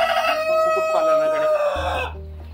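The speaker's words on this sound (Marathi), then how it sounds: "काही कोंबड्या मागे फिरत आहे" A rooster crows loudly and close by, a long tonal call lasting about two seconds, on a farm where goats are kept and hens roam free.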